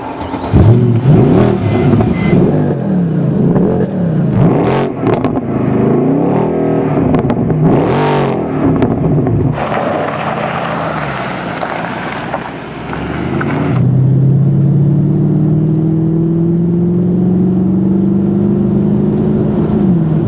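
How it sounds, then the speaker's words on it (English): A car engine revs up and down repeatedly, its exhaust note rising and falling, then settles into a steady drone with wind noise over it. "when I turn on the engine and you hear the sound from the exhaust pipe"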